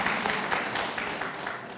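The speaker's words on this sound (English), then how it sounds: "So I think that deserves a round of applause." Audience applause at the opening ceremony of the Kupferberg Holocaust Resource Center and Archives: steady, dense clapping from a crowd, moderately loud and sustained throughout with no voices over it.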